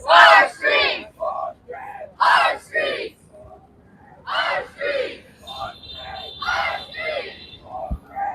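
Street protest crowd at a Los Angeles ICE demonstration, rhythmic bursts of group yelling and chanting in repeated short phrases, loud and nearby with brief pauses between shouts.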